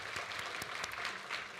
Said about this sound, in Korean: 우리 격려의 박수 한번 보내주면 좋겠어요.